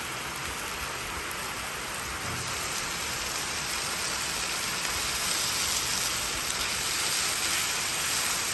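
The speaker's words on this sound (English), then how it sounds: "absolute downpouring" Heavy outdoor downpour, a dense, steady hiss of rain pouring down without pause, loud and even throughout with no voices.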